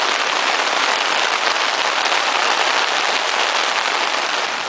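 Dense, steady rain pattering on surfaces at Singapore Zoo, an even hiss that fills the whole stretch with no talking.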